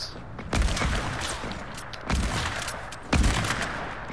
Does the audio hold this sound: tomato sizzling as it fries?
no